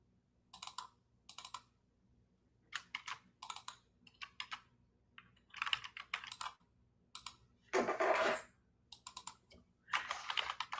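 Bursts of clicking keystrokes on a computer keyboard, quiet and close, in short irregular runs separated by pauses, with one longer louder rustle partway through.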